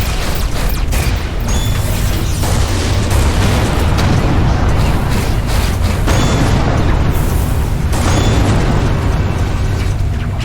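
Torpedo explosions in the space combat game Everspace 2 come as dense, loud booms and blasts over a constant roar of mechanical noise, with bursts around the second and eighth seconds.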